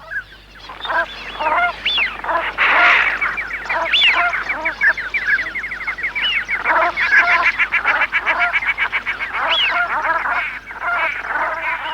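A large flock of brent geese winters in the Gulf of Morbihan bay, filling the air with dense, overlapping honks and chattering calls that carry on steadily and loudly throughout, with no voices.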